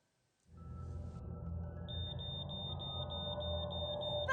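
A household smoke detector alarm emits a rapid series of short, high beeps over a loud low rumble of background noise.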